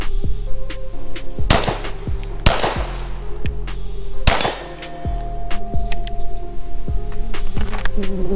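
CZ P07 pistol fired at an outdoor range, three loud sharp shots in quick succession, each followed by a ringing metallic clang from a steel target, no talk.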